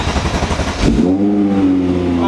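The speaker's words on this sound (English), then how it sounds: "Alright, so car's on." A parked car's engine turns over and settles into a steady idle hum, close by and fairly loud, after a brief clattering start.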